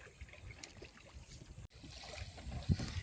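A rowboat moves along a village river in Bangladesh, with faint, quiet water lapping and dribbling around the hull, soft irregular splashes and a brief dull knock near the end.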